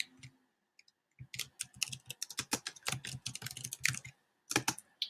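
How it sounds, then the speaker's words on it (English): Rapid typing on a computer keyboard while a student's name is entered into an advising form: a dense run of crisp key clicks, close and steady, with a short pause before a final burst. "First, you will start by typing the student's name."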